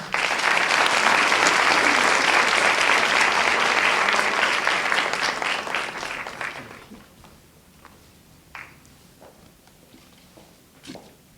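An audience at a Dyslexia Awareness Month proclamation ceremony claps loudly and steadily to welcome a speaker for about six seconds, then the applause fades into scattered claps, footsteps and room noise.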